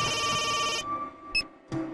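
A telephone ringing in a comedy film scene, a loud sustained electronic ring that cuts off, followed by two short clicks of handling.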